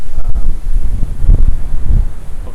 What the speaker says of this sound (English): Obviously a bit windy